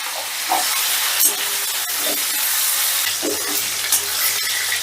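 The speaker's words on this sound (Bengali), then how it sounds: "এবারে আমি উল্টে দিয়ে এই পিঠটা হালকা লাল লাল করে ভেজে নিচ্ছি।" Pangas fish fries in a pan in a steady, loud, close sizzle and hiss, with a few soft scrapes and no talking.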